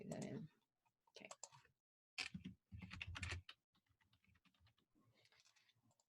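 Computer keyboard typing, with short clusters of close key clicks separated by brief pauses and a faint voice in the background.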